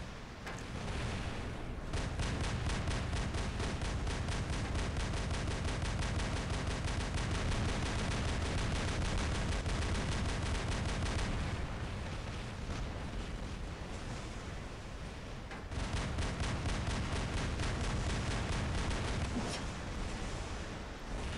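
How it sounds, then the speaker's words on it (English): Robot weapons fire in the War Robots video game, dense rapid bursts of gunfire rattling almost nonstop in loud stretches, with short pauses between volleys. "I'm trying to fire at that guy more just to keep him back."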